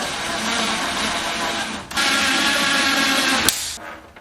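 Small wide-headed cabinet screws driven into the base of a 1980s TV with a power driver, a loud close whirring drive that pauses briefly, then runs again and ends in a sharp click.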